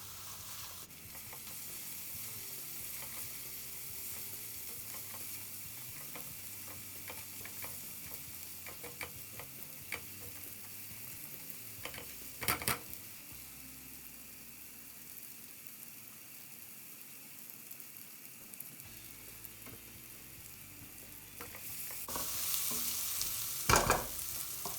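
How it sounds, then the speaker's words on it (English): Curry powder and garam masala frying over high heat in a pan for Indian restaurant-style pre-cooked chicken curry, a steady close sizzle with stirring scrapes throughout, rising louder near the end. "Now I'm going to put in high heat and cook this spice out."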